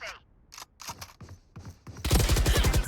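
Sharp, separate gunshots ring out one after another in a Valorant esports match, then a rapid burst of automatic fire runs to the end, loud and close, with faint commentary under it.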